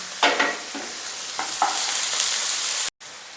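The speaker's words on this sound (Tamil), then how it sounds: "சோம்பு நல்லா பொரிஞ்சு வருது." Fennel seeds crackling and popping in hot oil in a pan, a few sharp bursts over a steady close sizzle, cut briefly near the end.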